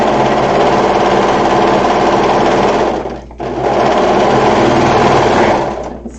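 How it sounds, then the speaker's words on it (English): A serger sewing machine stitches two fabric pieces together with a loud, fast, steady mechanical whirr, pausing briefly midway before running on and winding down at the end. "Since I am using a serger for this"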